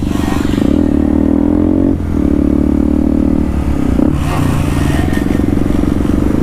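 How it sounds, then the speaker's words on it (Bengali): A motorcycle engine revs hard and loud during a wheelie, a sustained close-up drone with a brief drop in throttle and then renewed revving with some clatter. "ও ভাই wheelie wheelie, so great wheelie"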